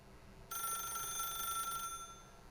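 A telephone rings in The Stanley Parable, a steady electronic bell tone with bright harmonics that starts abruptly and holds for over a second before cutting off, heard alone against a quiet room hum.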